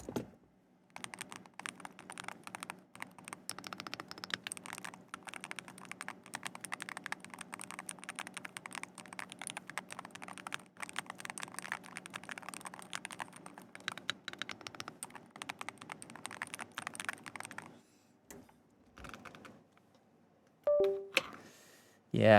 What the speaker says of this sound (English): This is my other keyboard. This is also my personal keyboard.